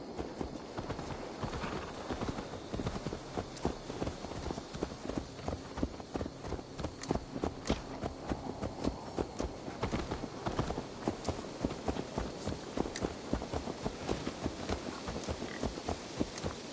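A horse's hooves clip-clop steadily at a trot through most of the stretch in Assassin's Creed Valhalla, evenly paced and moderately close, with ambient game noise beneath and no talking.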